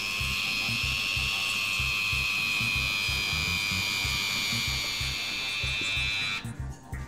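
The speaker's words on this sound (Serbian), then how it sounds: "I blendanje." A kitchen blender whirs steadily while blending a marinade of pepper, garlic and olive oil, with a sustained motor whine over a pulsing low churn. It runs loud and close for about six seconds and then cuts off abruptly.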